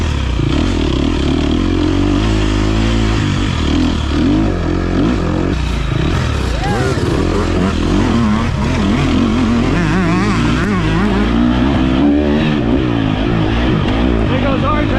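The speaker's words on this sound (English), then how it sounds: "Right here I get passed by RJ, who's riding in the A250 class on a 125." A 125cc off-road racing motorcycle engine revs loud and close during an enduro race, with a second bike's engine mixing in as it passes, while a voice talks over the noise.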